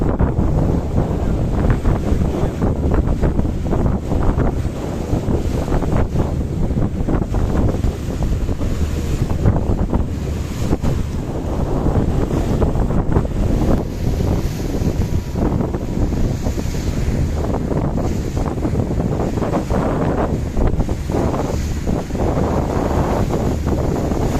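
Strong wind buffets the microphone continuously, roaring over the rush of water and waves around a moving tour boat on the Bosphorus in Istanbul.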